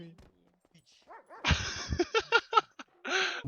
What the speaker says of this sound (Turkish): Abi belli olmuyor bu köpeklere uysallığı.